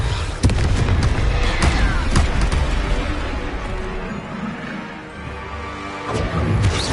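Confringo blasting spells in the game Hogwarts Legacy set off a run of loud, close explosions, heavy booms and crashing impacts, several sharp blasts spaced across the stretch with rumbling tails between them.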